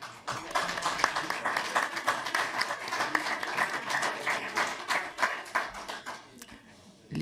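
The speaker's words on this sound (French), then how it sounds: "Les applaudissements de nos collègues montrent bien que votre témoignage était très, très important." Members of a French parliamentary committee applaud in a hearing room, a smaller group whose individual claps stand out as distinct sharp strokes, with a voice beginning to speak as the clapping thins at the end.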